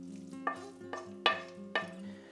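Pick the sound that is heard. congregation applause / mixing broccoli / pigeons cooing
mixing broccoli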